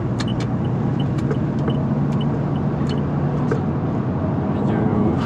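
A car accelerating with a steady, dense engine and road rumble that holds constant throughout, close-miked from inside the cabin, with faint ticks and clicks over it.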